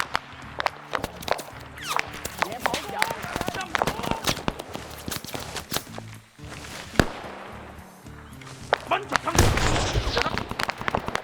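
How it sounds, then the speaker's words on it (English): Gunfire in the Vietnam-era Arma game SOG, scattered sharp shots and bursts at varying distances amid footsteps and movement, mixed with a voice talking throughout. "So we got some distance shooting over here."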